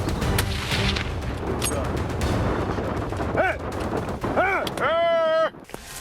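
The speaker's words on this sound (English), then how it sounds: "An inexperienced hunter often needs to fire several shots before bringing down a brown bear, as seen in this case." Rifle shots fired at a brown bear during a US hunt, loud sharp reports over a dense rumbling background, with voices shouting near the end.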